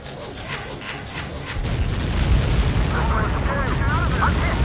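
A missile explosion in the combat flight game Ace Combat 7 lands as a deep, sustained rumbling boom that swells midway and stays loud, while voices speak over it.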